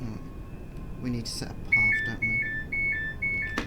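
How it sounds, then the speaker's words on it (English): Repeated two-tone electronic beeps in Train Sim World 4 on a Class 380 train, four evenly spaced chimes in the second half, clear and loud over cab noise while someone talks at the start. "I thought that was the alarm going off then"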